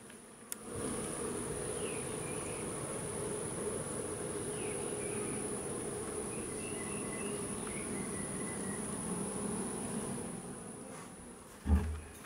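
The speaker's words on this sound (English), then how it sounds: "I just want you to hear the buzzing from all the bees." Dense, steady buzzing of many bees inside an abandoned house, a continuous close drone that fills the whole stretch, with a brief knock near the end.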